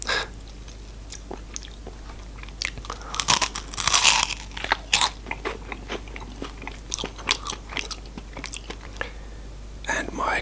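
Crunchy bites and chewing of a sweet Japanese snack, sharp irregular crunches close to the mic throughout, with soft whispered speech in between.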